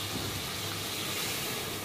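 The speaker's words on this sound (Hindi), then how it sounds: "मेरा दिल कर रहा है मैं इसमें थोड़ा सा पानी ऐड कर दूँ" A little water poured into a hot cooking pan gives a soft, steady sizzling hiss that stays faint and even and runs close by, with no talking.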